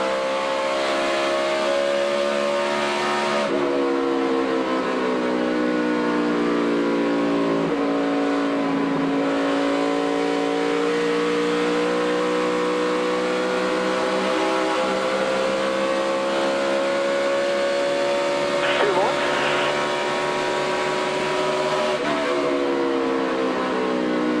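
In-car sound from Dale Earnhardt Jr.'s NASCAR Sprint Cup car racing at Kansas: a loud, sustained engine drone with rising and falling pitch through shifts and corners, continuous and close, with no talk.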